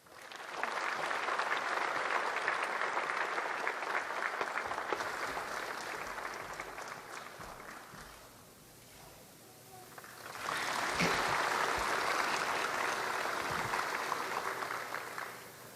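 A large audience applauds the South Korean president at the opening ceremony of the 2016 Korea Happy Education Fair, a dense sustained ovation that dips briefly midway before swelling again at full strength.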